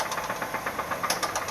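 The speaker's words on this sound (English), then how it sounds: "Customer states, knocking sound from engine bay." Rapid, rhythmic knocking from a running car engine, a steady metallic tapping repeating several times a second over the idle hum.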